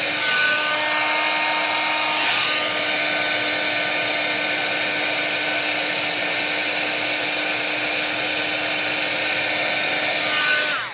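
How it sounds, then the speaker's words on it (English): A heat gun runs steadily as it melts embossing powder, a loud even whine with a constant blowing hiss, briefly dipping near the start and easing off at the end. "You literally just need to move your heat gun along and it's melted."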